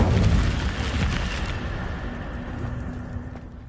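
Incendio fire spell in a video game: a loud burst of roaring flame that rumbles and slowly fades over a few seconds.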